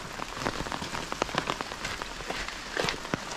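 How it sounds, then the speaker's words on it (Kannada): Steady rain patters on surfaces outdoors in a village, a dense, close spatter of drops with no voices, fairly even in loudness throughout. "ಮಳೆ ಸ್ವಲ್ಪ ಕಡಿಮೆ ಇದೆ ಇವತ್ತು ಬೆಳಗ್ಗೆಯಿಂದ"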